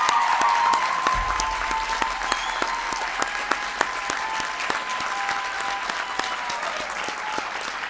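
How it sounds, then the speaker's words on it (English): Applause for Congressman Tom Cole at the Violence Against Women Act signing ceremony: steady, dense clapping from a large crowd lasting about eight seconds, even in level and heard fairly distantly with no speech over it. "Give Tom a big round of applause"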